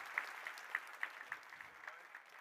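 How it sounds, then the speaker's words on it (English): At a salmon recovery conference plenary, applause greets a speaker, heard faint and distant as a thin spread of separate claps at a fairly regular pace. "So big round of applause to welcome Tom Rutherford."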